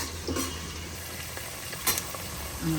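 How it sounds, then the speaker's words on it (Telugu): Curry leaves and chili powder frying in oil in a pot for gongura mutton curry, a soft continuous sizzle with a few sharper crackles and stirring clatters. "ఇప్పుడు కరివేపాకు, కారము, నూనె కొంచెం వేసుకుని బాగుంది"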